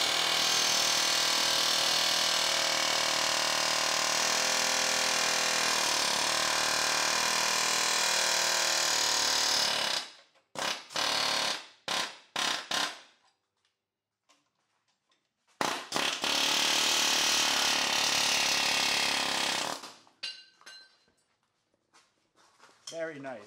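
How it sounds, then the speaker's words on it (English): A pneumatic air chisel hammers bent brackets off a homemade high-clearance front steel bumper, a loud continuous rattling burst for about ten seconds, then short choppy bursts, a gap, and another long sustained run before trailing off. "Go see if the air chisel will take these off of here."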